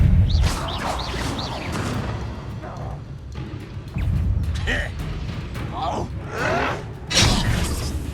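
A spell is cast in the Hogwarts Legacy video game amid a dense jumble of whooshes, thumps and crashing impacts, with sharp chirping bursts over a steady low rumble.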